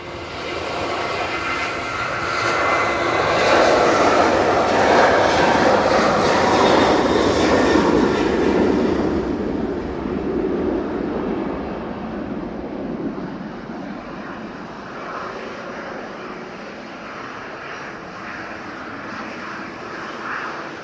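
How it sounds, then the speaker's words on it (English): A Jet2 Boeing 737-800 takes off, its engines a loud, broad roar that builds and peaks near the middle, then fades slowly as the jet climbs away. "Nice departure there from the Jet2."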